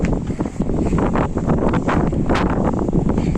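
Steady, loud wind buffets a microphone outdoors near a harbour where a cruise liner is moored on Cape Verde, a continuous broadband rush with gusty swells and no talk.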